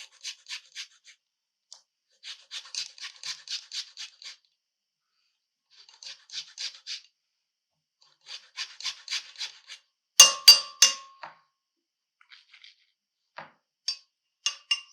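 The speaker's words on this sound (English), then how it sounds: "I'm just scraping off some of the skin into a really fine particle." Lemon peel is scraped across a fine zester, repeated close, soft rasping strokes in quick rhythmic bursts with short pauses, alone in a quiet room, with one brief harsher scrape part way through.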